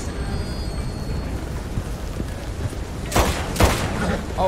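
Gunfire in Red Dead Redemption 2 rings out as two loud, close shots near the end over steady outdoor game ambience.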